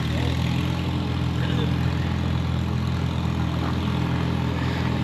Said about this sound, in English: Over here we got the tractor powered sawmill.